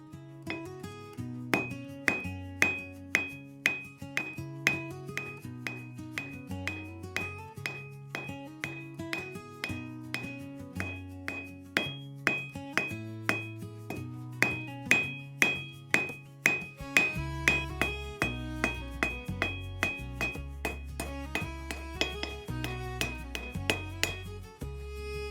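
A hammer strikes 6mm steel round bar to flatten it, giving sharp, ringing metallic blows in a steady rhythm close by. The strikes grow heavier toward the end.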